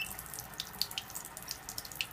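Purified water runs from the faucet of a KYK 66000 under-sink alkaline water ionizer, a soft steady splashing trickle with small drips and bright splatters, quiet and close, with no voices.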